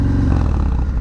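Harley-Davidson motorcycle engine, Softail or XR1200 class, rumbles steadily and close while riding, a dense low throbbing idle-to-cruise note with faint mechanical clatter, no voices.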